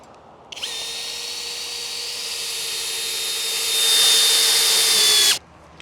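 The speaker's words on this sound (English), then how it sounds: "take your 2 6-inch screws and screw them right into the pre-drilled holes" A power drill drives 6-inch screws into pre-drilled holes on an arbor post in one continuous, close, high-pitched whine. The whine rises slightly in pitch and loudness before it cuts off sharply.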